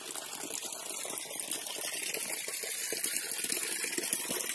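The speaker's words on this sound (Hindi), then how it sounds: "आप लोग को चलो पानी कैसा गिर रहा है उसको भी दिखला रहे हैं।" Water tumbles steadily over rocks at a tourist spot in Dhanpuri, Shahdol district, a continuous close rushing splash with no talk over it.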